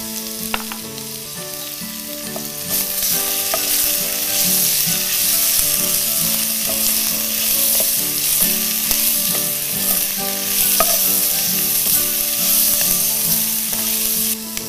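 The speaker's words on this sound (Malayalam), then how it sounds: "ഉള്ളി നന്നായി വഴണ്ട് വന്നിട്ടുണ്ട്. ഇതിലേക്ക് നമുക്ക് കുറച്ച് ജിഞ്ചർ ഗാർലിക് പേസ്റ്റ് ചേർത്ത് കൊടുക്കാം." Onions frying in a pan for a Kerala-style mushroom thiyyal, with ginger garlic paste added, give a steady, loud sizzle and crackle throughout, with occasional spoon scrapes and no talking.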